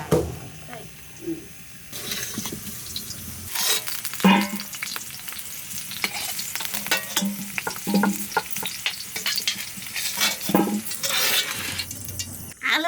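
Potatoes sizzle and fry steadily in a pan for chicken curry, with occasional stirring scrapes and clinks throughout, close and moderately loud, no talking.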